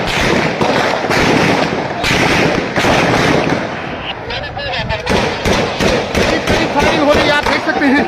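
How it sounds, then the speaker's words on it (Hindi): Heavy gunfire during a clash between two groups at Yadgar Chowk, PoK, with dense rapid cracks and booming reports echoing through the street, loud and near, continuing with hardly a break while a voice talks over it. "शदीद किस्म की फायरिंग हो रही है"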